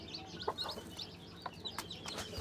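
A hen clucks softly on a farm while newly hatched chicks cheep in high, quick peeps, scattered over a quiet background.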